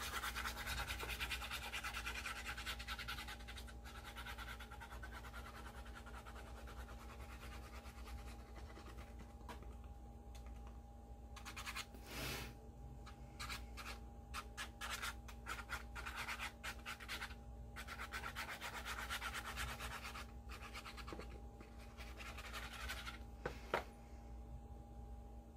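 A brush spreads glue across the back of fabric, giving soft, steady scratchy strokes that repeat closely over a low constant hum for a long stretch.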